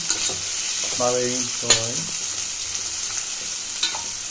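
Cluster beans with chopped onion and a little salt frying in a pan, a steady sizzle broken by a few clear scrapes and stirs of the spoon, close and moderately loud with no talking.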